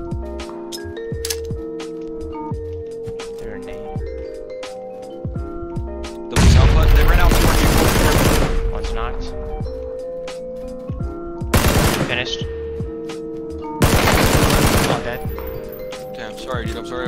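Gunfire exchange in PUBG, with loud bursts of automatic fire and scattered single shots around sharp clinking effects, under a player's voice.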